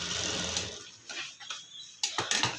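A sewing machine stitching fabric, running in a steady whirring burst at first, then starting and stopping in short rattling runs, close and clear with no talking.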